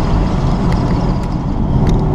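A 1968 Ford Mustang GT/CS California Special's big-block engine revs loudly up to about 4,000 RPM, a close, continuous low rumble that holds steady without a break.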